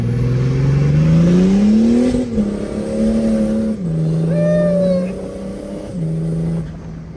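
A BMW 335d diesel engine revs in a garage, climbing and dropping in pitch through several loud, close pulls with brief dips between them, heard alone.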